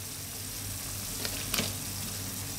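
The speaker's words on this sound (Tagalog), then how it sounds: "kulong-kulo na yung ating kamatis tsaka yung duya" Sinigang broth with tomatoes and duya at a rolling boil in a pot, a soft continuous bubbling hiss with a couple of small pops, quiet and steady with no voices.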